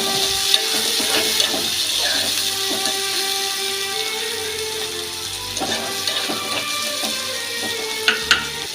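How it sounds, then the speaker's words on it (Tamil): Chopped onion and green chilli sautéing in a pan for a red amaranth stir-fry, with a steady close sizzle and occasional spatula scrapes and clinks throughout. "நம்ம கட் பண்ணி வச்சிருந்த வெங்காயம் பச்சை மிளகும் சேர்த்துக்குங்க வெங்காயம் நல்லா வதக்குங்க"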